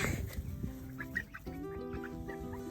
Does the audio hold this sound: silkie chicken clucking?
yes